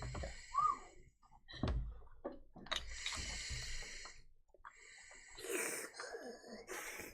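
Heavy breathing right into a microphone during an online tabletop role-playing game, with irregular close-up huffs, snorts and wheezy exhales separated by short quiet gaps.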